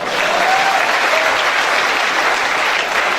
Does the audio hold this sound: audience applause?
yes